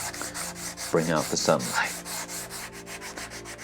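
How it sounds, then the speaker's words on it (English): Sandpaper rubs in quick repeated strokes over the black finish of an old classroom guitar, with a steady scratchy rhythm that continues under a person talking and then alone. "sand down the black here"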